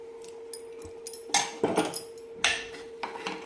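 Egg curry is served onto a plate with a few clinks and scrapes of a spoon against metal dishware, set against a steady background hum.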